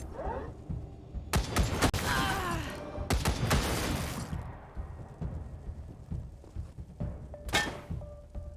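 Gunfire in the video game Wasteland 3: sharp bursts of shots in two dense clusters, then scattered thuds and a later single burst, moderately loud with a few quiet gaps.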